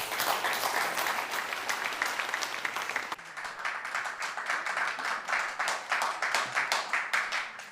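Audience applause greets a contestant on the Milli Səs singing competition, a lively, sustained crowd clapping with a brief dip partway through before it picks up again, steady and fairly close, with no speech.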